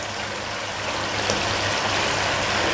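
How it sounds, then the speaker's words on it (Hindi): Half a cup of water poured into a pot of aloo gosht with potatoes, giving a steady, close splashing rush that runs evenly throughout. "अब इसमें हम थोड़ा सा तकरीबन ये आधा कप पानी डाल रहे हैं"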